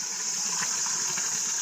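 Clean water runs at Ghora Gali with a constant hissing gush that stays even and moderately loud throughout, with no other sounds over it.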